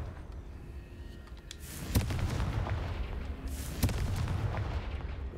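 Two sharp magical blasts from the Confringo spell in Hogwarts Legacy, each a sudden crack with a rumbling tail, spaced about two seconds apart over a low background drone.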